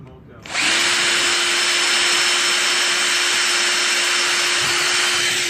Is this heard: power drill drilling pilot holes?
yes